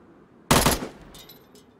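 A sharp burst of gunfire in the DayZ video game, with one loud close crack followed by a quickly fading tail and a few faint distant echoes.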